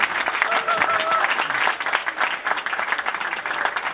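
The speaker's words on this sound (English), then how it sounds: "Yay, you can clap now." An audience at a book reading and Q&A gives steady applause, a dense patter of clapping with a few voices and some chatter mixed in, holding at an even level throughout.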